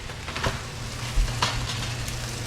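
Onion pieces fry in a skillet with a steady close sizzle and a few louder stirring scrapes and bumps.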